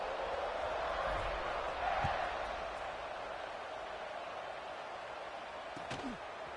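A football stadium crowd buzzes after a score, a broad, steady roar of many voices with a couple of brief thuds poking through.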